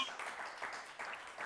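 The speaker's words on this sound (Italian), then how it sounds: "L'applauso. Applauso a voi." Studio audience applauding on an Italian TV beauty pageant broadcast, a steady mid-level patter of clapping that swells in small waves over a short stretch, with some faint voice mixed in.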